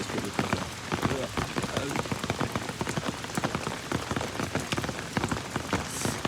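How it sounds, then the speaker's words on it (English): Heavy rain falls outdoors, dense and close, with rapid irregular drops pattering on hard surfaces in a continuous loud wash, no voices. "Bro, it's raining heavy out here though."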